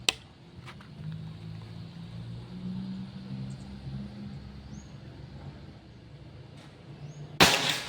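A Predator Pajero Gun Gen 6 air rifle fires during an accuracy test: one sharp crack opens, faint clicks follow, and a louder, harder report sounds near the end over quiet background hum.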